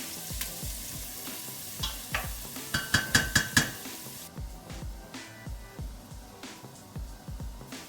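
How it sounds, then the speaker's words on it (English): Onions sizzling in a pan for German red cabbage, stirred with a utensil that knocks and scrapes in a quick run of clinks, over a steady frying hiss, close and clear with no talking. "Add the onions and let them soften until translucent."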